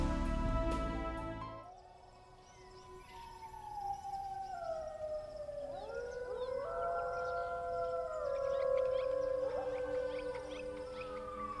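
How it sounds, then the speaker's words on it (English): A lone wolf howls in the wild rainforest, long rising and falling tones drawn out over several seconds, fairly distant and clear against a quiet background. "What do you hear in the lonely howl of the wolf?"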